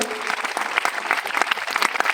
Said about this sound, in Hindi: एक बार एक जोरदार तालियां होना चाहिए